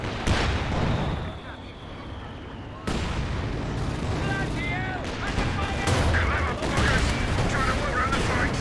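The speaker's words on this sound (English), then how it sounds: "a lot of shots popping off both directions" Battle gunfire in the World War II strategy game Company of Heroes 2, with dense rifle and machine-gun bursts, booming artillery and explosions layered loudly and continuously, with a commentator talking over parts of it.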